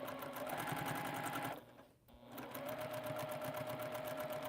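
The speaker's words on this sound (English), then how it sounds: "I've been sewing this whole time with my Bernina." A Bernina sewing machine stitches quilt seams with a close, steady motor whir and rapid needle rhythm. It pauses briefly midway, then runs on.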